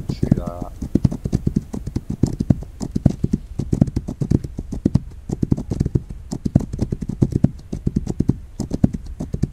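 Several horses gallop in a video game, their hoofbeats a fast, continuous rhythmic pounding, with a short voice near the start.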